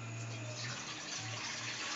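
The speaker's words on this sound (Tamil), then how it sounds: "முதல்ல 8 கிளாஸ் தண்ணி ஊற்றிக்கோங்க." Water pours steadily into a cooking pot, about eight glasses measured in for a ragi semiya breakfast, a continuous close splashing rush with a low resonant tone underneath and no talking.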